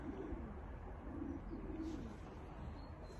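Homing pigeons in a breeding loft give soft, low coos in a few short repeated phrases, faint and close against a steady background hum, with no talking.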